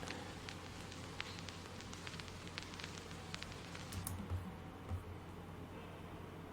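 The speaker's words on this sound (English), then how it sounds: "And for the effects, I added this vinyl sound." Soft, steady crackle and hiss like a worn record, with scattered faint pops, sitting low and continuous in the background.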